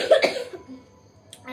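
A single close cough bursts out at the start, a short harsh hack followed by a quieter trailing breath, then near silence.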